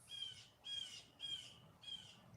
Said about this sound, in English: What's wrong, baby bird?